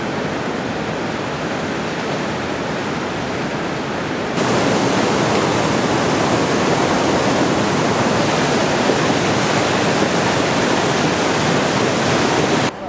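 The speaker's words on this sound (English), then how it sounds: "you can use this old bridge to cross the river" A river rushes beneath an old bridge on a trekking route in Nepal, a loud and steady broadband roar that grows stronger partway through and carries on without a break, with no voices.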